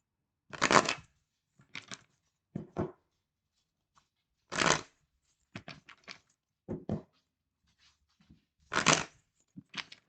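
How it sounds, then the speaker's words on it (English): Tarot cards being shuffled by hand at close range, in several short, crisp riffling bursts separated by brief pauses, with no talking. "I'm gonna try to shuffle today"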